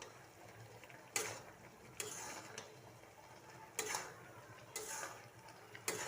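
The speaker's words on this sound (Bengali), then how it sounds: "নেড়ে চেড়ে দিচ্ছি।" Olive pickle with chili flakes being stirred in a pan, heard as soft scraping and several sharp, spaced clacks of a utensil against the metal, fairly quiet overall.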